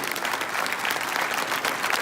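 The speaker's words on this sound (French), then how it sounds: "Donc merci d'applaudir Lilou." An audience applauds a girl named Lilou during a speech, a full, even round of clapping that fills the moment.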